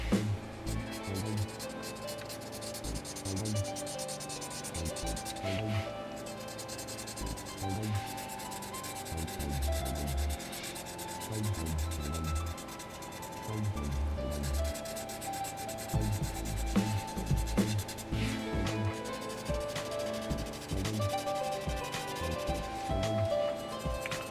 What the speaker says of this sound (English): Just want to blend the bottoms of these mountains out.